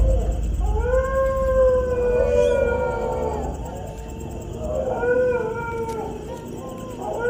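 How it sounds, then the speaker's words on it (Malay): A dog howls from far off at night, several long wavering howls rising and falling over a steady low background rumble, heard faintly through a window. "terdengar bunyi anjing dari kejauhan"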